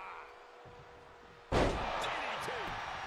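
A wrestling DDT slam in the WWE Smackdown video game lands as one loud, sudden impact about halfway through, followed by crowd and arena noise, after a quieter stretch with commentary.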